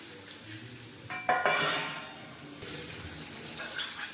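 Pre-fried prawns go into softened, cooking bottle gourd in a pan, with clattering stirring, a rising wet sizzle and scraping utensil sounds, alone and close.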